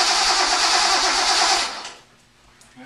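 A Datsun 260Z engine cranks and fires roughly under full throttle, running gas starved with a loud, steady churning roar that cuts out after about two seconds, leaving near silence.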